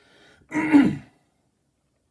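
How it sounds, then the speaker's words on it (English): A single short, gravelly throat clearing, close and fairly loud, followed by silence. "Cannot clear my throat."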